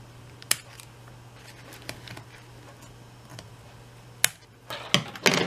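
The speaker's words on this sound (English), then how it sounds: "I think I will cut these little ends off" Scissors snip loose thread ends on a handmade fabric journal cover, a few sharp close clicks spaced apart, then a quick cluster of snips and rustling handling near the end, with no talking.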